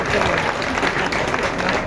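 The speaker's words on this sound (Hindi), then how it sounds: "तालियों के गड़गड़ाहट से स्वागत किया जाए" Audience applause at the Punpun Pitripaksha fair, a local public gathering with dignitaries present, a dense, steady wash of clapping across the whole stretch with crowd noise and voices mixed in.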